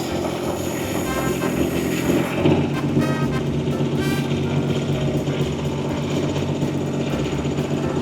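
A 2026 Rippa R13 mini excavator drives while its boom lowers, with a loud, steady engine drone, a whining hydraulic pump, and rattling tracks, close by and uninterrupted.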